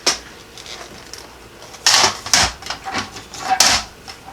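A paper punch punching the corner of a photo folio, giving several sharp, crisp clacks in an uneven cluster after a quiet start, close and fairly loud.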